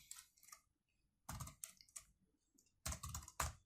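Typing on a computer keyboard, quiet close-up clicks in irregular bursts separated by short pauses.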